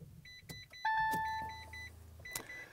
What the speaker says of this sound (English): You hear the little bing bong,